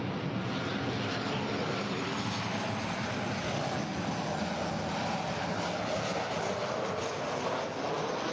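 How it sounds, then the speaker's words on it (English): A Southwest Airlines plane arriving at LAX from Sacramento makes a continuous broad roar, loud and steady throughout with no talking. "This is Southwest Airlines, flight 2131, coming in from Sacramento."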